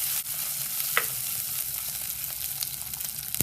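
Onions fry in a pan for a Kerala-style fish curry, giving a steady close sizzle and hiss that runs throughout with a few faint clinks and stirring touches.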